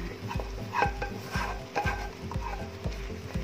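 Thickened pineapple jam is stirred in a pan, making quick, rhythmic scraping and squelching strokes with a faint sizzle beneath, close and steady with no talk.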